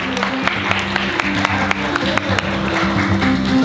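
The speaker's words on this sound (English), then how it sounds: "so let's give a round of applause" A live audience at a music quiz show during the Holiday Matsuri 2016 convention claps loudly and steadily, with dense, continuous applause over a faint background hum.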